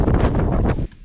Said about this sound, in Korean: 밖에 바람이 장난이 아니어가지고